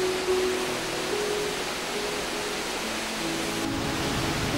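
Norilang Falls, the largest waterfall in the Jiuzhaigou reserve, pours as a steady, dense broadband roar with no voices, the rushing water holding an even level throughout.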